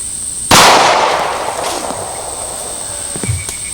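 A single sharp .45 pistol shot firing a Georgia Arms jacketed hollow point round into a watermelon, loud and close, followed by a decaying ring and a faint clatter near the end.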